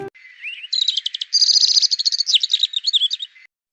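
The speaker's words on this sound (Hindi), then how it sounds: "जंगल में सुबह की हल्की धूप फैली थी। पक्षियों का कलरव" Songbird calling in a forest in the morning: one clear, close bird sings rapid trilled chirps and warbling runs for about three seconds against silence.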